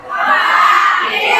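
A large audience at an HNI gathering shouting a short word together in unison, one loud collective burst lasting about a second.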